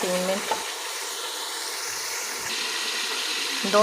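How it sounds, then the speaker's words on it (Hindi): Meat for a Peshawari handi fries in a pan with a steady, bright sizzle that runs throughout, broken by a few stirring clinks at the start and end. "इसे हमने अच्छे से फ्राई करना है।"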